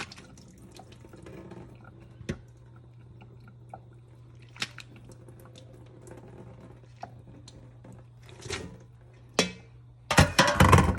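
Water draining from cooked butternut squash in a kitchen pot, quiet drips and trickles building to a louder rushing splash of water near the end, close by.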